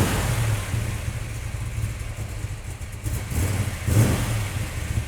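Rare 1973 Ford XA GT Falcon coupe with a factory-fitted Phase 4 engine, a deep rumbling engine that idles and revs in surges as it drives, close and prominent.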